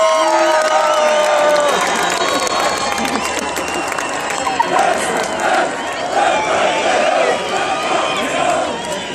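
A large crowd cheers and shouts loudly and continuously for recruit platoons at a Marine Corps Recruit Depot San Diego event, with whoops, whistles and scattered clapping in a reverberant space.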